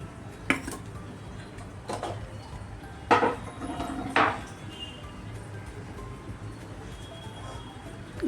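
A frying pan is set down on a gas stove in a home kitchen, giving several sharp metallic clanks and knocks spread over a quiet background hum.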